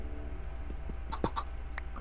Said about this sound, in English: Chicken's right there, okay.